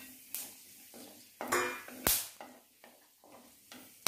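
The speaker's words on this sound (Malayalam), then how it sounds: "ഇനി അതിലേക്ക് നമുക്ക് ഈ സ്പൈസസ് ഇട്ട്" Whole spices frying in hot oil with caramelized sugar for a Kerala-style chicken curry, a close crackling sizzle broken by repeated scraping stirs and metal utensil clatter against the pot.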